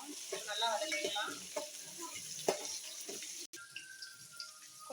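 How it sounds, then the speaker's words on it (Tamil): Small onions sauté in a pan for a dried-fish curry, a close, crackling sizzle with clinks of stirring, then a quieter, steadier hiss after a brief gap. "வெங்காயம் வந்து நல்லா வதங்கணும்."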